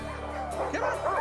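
Yukon Huskies in a kennel give a quick burst of yips and high whining barks, close and lively, lasting only a moment.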